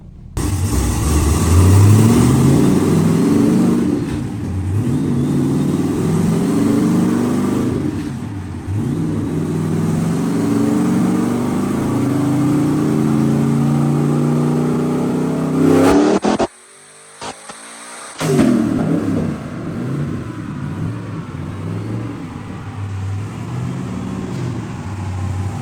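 A sand car engine, freshly tuned with added timing and a leaner mixture, revs loud and close in sustained rising pulls, cutting out briefly before roaring back up.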